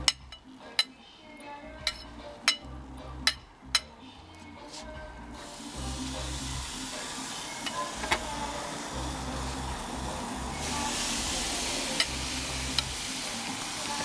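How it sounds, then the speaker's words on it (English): Marinated beef sizzling on a braai grill outdoors, a steady broad hiss that swells after a few sharp clicks and taps at the start and carries on evenly throughout. "Now you're going to add the meat directly onto the grill?"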